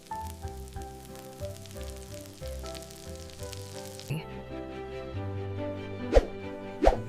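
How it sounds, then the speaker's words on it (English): Bacon frying in a pan until golden for eggs Benedict, a steady close sizzle with occasional pops, set under background music. "Toast the muffins and cook the bacon until golden."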